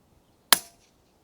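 A single sharp CZ457 .22LR rifle shot cracks once out of near silence at a range, loud and close, its report trailing off quickly with no talk around it.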